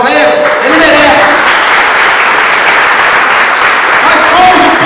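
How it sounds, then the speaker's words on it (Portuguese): A church congregation applauds loudly and continuously, a dense wash of clapping with voices mixed in, steady in level from start to finish. "Vou dar uma salva de palmas para ele."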